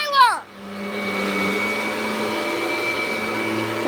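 A Kirby vacuum cleaner shampooing carpet starts up after a brief burst of higher sound, then settles into a steady loud motor drone.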